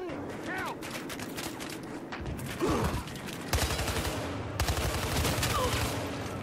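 Gunfire in the multiplayer shooter Battlefield Hardline, with rapid bursts of automatic shots and mechanical clicks rattling steadily under a voice talking over the action.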